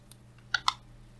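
Two quick, crisp mouse clicks close together near the middle, faint and close-miked while working in Archicad software, with a quiet electrical hum underneath.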